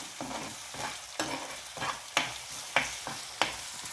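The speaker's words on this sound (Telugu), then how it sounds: "దీన్ని కూడా ఈ ఆయిల్లో బాగా వేయించాలి" A paste of ginger, garlic, coriander and cumin frying in oil in a pan, with a steady soft sizzle under repeated stirring scrapes and light knocks, close and quiet, with no talk.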